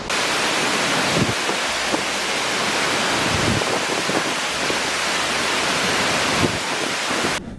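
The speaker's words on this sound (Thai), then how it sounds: "ข้างหลังนี่คือน้ำตกคลองลานนะครับ" Khlong Lan waterfall in Kamphaeng Phet, Thailand, a loud continuous broadband roar of falling water heard from a nearby viewpoint, steady throughout with faint low rumbles and no talking.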